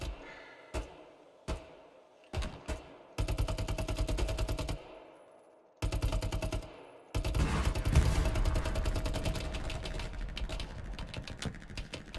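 Gunfire in Hell Let Loose, a World War II shooter: short single shots at first, then sustained rapid machine-gun bursts that grow dense and loud, with brief pauses between volleys.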